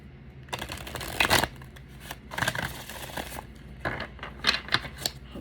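Tarot cards shuffled in several quick riffling bursts separated by short pauses, close and crisp with no talking.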